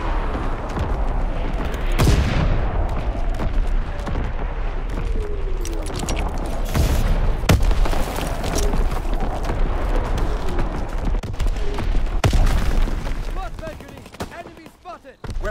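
Artillery barrage in Call of Duty WWII fills the scene with heavy booms and crackling gunfire that go on continuously. Sharp blasts stand out in the chaotic battle noise, which thins out near the end.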